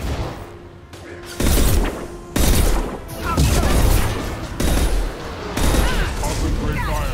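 Bursts of gunfire from the video game Mass Effect 2 land in several loud clusters with heavy booms, mixed with game voices speaking.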